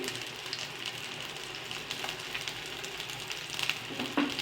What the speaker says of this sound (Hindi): इस तरह से हम तमाम कबाब फ्राई कर लेंगे।